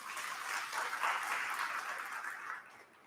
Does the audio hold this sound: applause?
yes